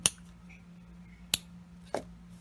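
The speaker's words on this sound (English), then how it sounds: "And we'll trim that." Scissors trimming paper for a handmade treat box make two or three sharp, isolated snips spaced apart over a quiet room hum.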